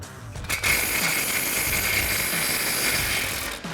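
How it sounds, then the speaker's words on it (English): An impact wrench with an 18mm socket, swivel adapter and extension loosens a bolt on the front coil-over of a 2015-2025 Ford F-150, giving a loud, steady mechanical hammering rattle for several seconds. "So we've got an 18mm socket and our swivel adapter with an extension on our impact."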